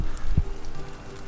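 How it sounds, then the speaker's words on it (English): Rain falls steadily nearby, a soft continuous patter with one heavier low thump partway through. "it's raining again."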